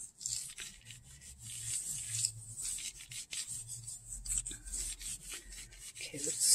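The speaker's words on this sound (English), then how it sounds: "So I'm gonna do a little more intentional rubs with all of my fingers into the areas where the paint is" Fingers rubbing paint through a heart stencil onto a card, making soft, repeated scraping strokes up close in a steady rhythm, with no talking.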